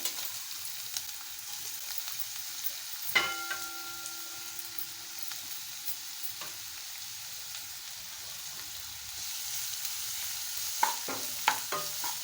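Onion sautéing in oil in a pan, a steady soft sizzle with occasional utensil taps and scrapes, one ringing knock early and a few more near the end.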